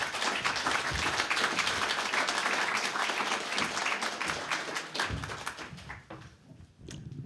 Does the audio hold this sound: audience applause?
yes